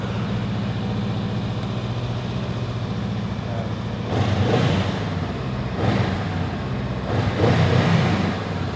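Honda Rebel motorcycle idling steadily nearby, with two short blips of throttle that swell the engine note before it settles back to idle.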